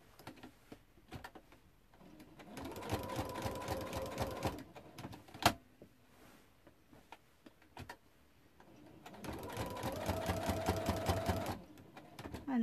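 Domestic sewing machine stitching a circle appliqué, in two long whirring runs of rapid rhythmic needle ticking separated by a quiet pause with a few isolated clicks and one sharp tap.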